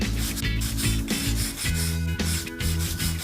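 A joint surface is rubbed clean by hand before sealant is applied, producing loud, close, rhythmic scrubbing strokes in a steady back-and-forth pattern with no speech.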